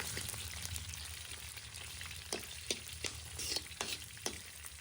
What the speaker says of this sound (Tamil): சின்ன வெங்காயம் மேலே போட்டு பொறிக்கிறது